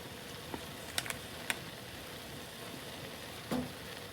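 Shrimp, lobster and scallops cook in butter with a low, steady sizzle and faint crackle, broken by a few light ticks and one brief utensil clink near the end; no one talks.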